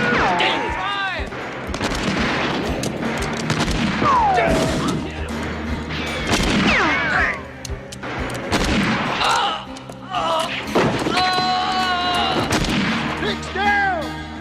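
A western comedy shootout: repeated gunshots and crashing impacts burst in a chaotic, loud flurry, mixed with shouting voices and music throughout.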